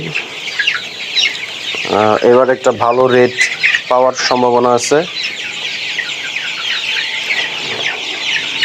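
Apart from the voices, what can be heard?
Sonali hybrid chickens clucking on a farm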